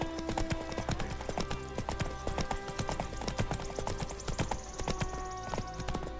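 Hooves of Roach, Geralt's horse in The Witcher 3, clip-clop at a steady walking rhythm across the whole stretch, set against a dense, busy game soundscape.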